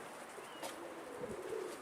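Faint, soft cooing of a bird in the distance over quiet outdoor background noise, a few low calls spread across the moment.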